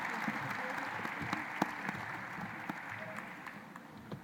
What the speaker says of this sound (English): Let's give them another round of applause as they make their way from the stage.